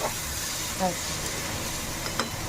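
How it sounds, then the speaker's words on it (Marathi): Sliced onions frying in oil for biryani give a steady, soft sizzling hiss throughout, fairly quiet, with a faint clink of a utensil partway through. "मी बिर्याणीला कांदा फ्राय करते, बघा कांदा फ्राय करते।"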